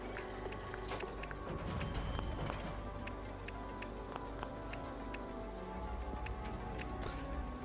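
Rapid hollow clip-clop hoofbeats from the Giddy Up Buttercup mechanical horse in the video game Fallout 76 patter along continuously at a moderate distance, with scattered sharper knocks and no talking.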